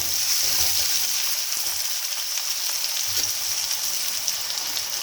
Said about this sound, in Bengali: এবার পেঁয়াজটাকে লাল করে ভেজে নেব।